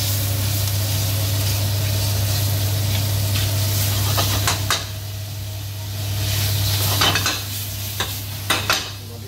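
Pancetta fries in a pan with pasta sauce, giving a constant sizzle under a low hum, with several sharp clinks and scrapes of a utensil against the pan near the end.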